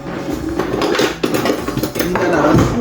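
A spoon clatters and scrapes against a cooking pan while plant-based ground beef is stirred, giving close, busy metallic knocks and scraping with voices in the background.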